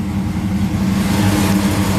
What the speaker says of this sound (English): This car has a pretty radical cam, so when it's idling it doesn't burn all the gas